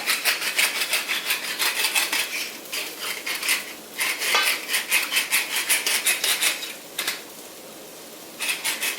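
A peppermill grinds pepper over a dish of keftedes meatball mix, giving a sustained dry, raspy crunching in repeated bursts, fairly close and steady, with a short pause near the end before grinding resumes.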